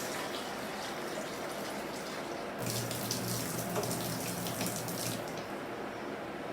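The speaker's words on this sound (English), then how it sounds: "I'm taking some cold water into this bowl." Cold tap water pours into a bowl in a home kitchen while chena is prepared for baked sandesh, a steady hiss of running water beginning partway through and continuing at moderate level.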